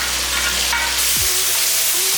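Chopped tomatoes and onions sautéing in a pan for a tangy yam curry, a close, steady hiss and sizzle with a couple of brief stirring scrapes, no voices.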